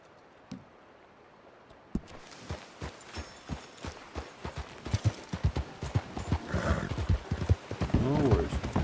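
Horse hooves clip-clopping in the Red Dead Redemption 2 video game, a steady run of close, loud hoof strikes that quickens and builds toward the end, with a brief whinny and a voice talking over it.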